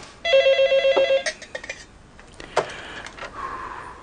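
A telephone rings with a rapid trilling bell burst, then stops, followed by a few faint clicks and handling noises.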